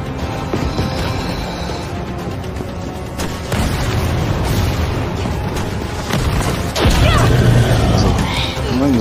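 Rocket blasts in a Resident Evil game go off as dense, continuous booming and crashing under a loud in-game soundtrack, with several heavier impacts standing out.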